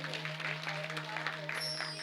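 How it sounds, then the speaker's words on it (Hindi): Brief, moderately faint audience applause at a women's devotional Manas mandali gathering in Aroud, a short burst of scattered clapping over a steady background hum. "जोरदार ताली बजा दीजिए"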